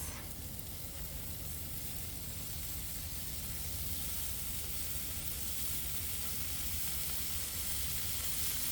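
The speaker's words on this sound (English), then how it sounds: "throw some bacon down because you can't have pancakes without the bacon" Bacon strips sizzle on a hot griddle, a dense, steady, loud hiss of spitting fat that runs unbroken from start to finish, close by and with no talking over it.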